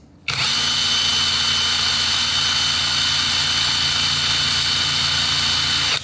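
PATUOPRO 500Nm cordless impact wrench running at first speed, a loud, steady whine with a constant motor hum that starts abruptly and holds unbroken to the end.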